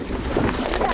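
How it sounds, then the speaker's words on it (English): A boat speeds away across the water after a gigantic black hippo surges up nearby, its engine and hull noise a steady, fairly loud rumbling wash mixed with blustery wind buffeting, with no voices. "the boat is able to speed away before the beast could inflict any damage"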